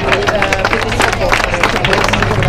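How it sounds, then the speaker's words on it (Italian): A crowd at the Pescara Sky Show applauding a parachutist's landing under a yellow parachute: loud, continuous clapping and crowd hubbub, with an announcer talking over it. "accogliere con un grande applauso questo quinto"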